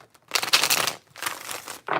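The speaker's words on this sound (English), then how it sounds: "More shuffles." Tarot cards are shuffled in two quick, crisp riffling bursts close up, each a papery flutter lasting about half a second, with a short pause between and a third burst starting at the end.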